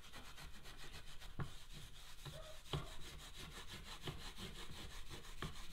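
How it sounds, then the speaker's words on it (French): Steady scraping strokes across the wood of a bedside table as old patina is worked off, a continuous rasping rub with a few sharper scrapes standing out, close and without talk. "je vais continuer à gratter, croyant qu'il y a encore de la patine"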